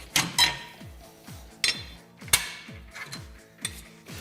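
A ratchet clicks in quick bursts while bolts are backed out of the rear lower A-arm of a Kawasaki Teryx KRX 1000, with sharp metallic clatter between runs of pawl clicks, close and alone.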